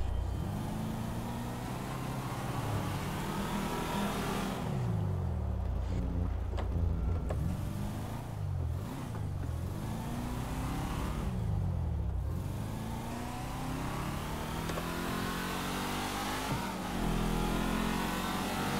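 A 2019 Toyota Camry in GTA 5 is driven fast, its engine revving and rising through gears in repeated sweeps, holding a steady drone between climbs, with no talk.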